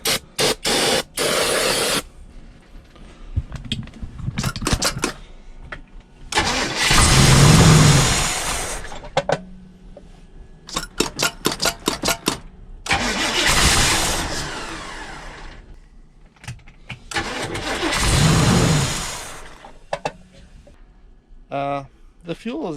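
The engine of an abandoned Barth luxury motor home, with fuel ten months old, cranks in long loud bursts and sputters as it tries to start. Clanks and handling noises fall between attempts, and people talk throughout.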